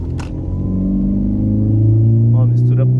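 A Ford Focus fitted with two throttle bodies, running a lean mixture on a street test drive, drones and revs steadily and close by, its engine note climbing, while someone speaks briefly over it.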